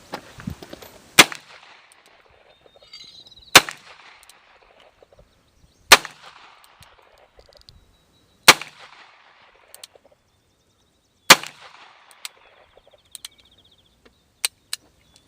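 A Colt pistol fired one-handed at an outdoor shooting range, six or seven sharp loud cracks spaced a few seconds apart, each trailing a short echo, with a faint rustle between shots.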